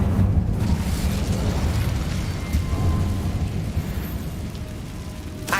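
Incendio fire spell cast in Hogwarts Legacy, a dense roaring burst of flame that rumbles continuously and loudly for several seconds before a final flare.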